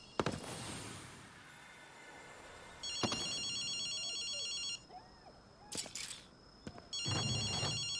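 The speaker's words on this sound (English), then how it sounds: "Octo, you hear a phone ringing?" A payphone rings inside the Ghostwire Tokyo video game, its electronic bell sounding in repeated bursts separated by pauses, loud and clear over a quiet ambient game backdrop.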